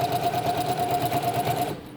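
A sewing machine runs steadily and close up, stitching bias tape onto a homemade fabric mask, its fast even whir continuing without a break before easing off at the end.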